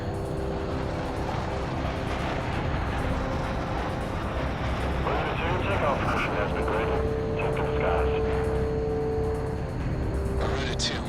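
A fighter jet roars during takeoff in Ace Combat 6, a constant, loud engine rumble that swells slightly midway while radio voices talk over it.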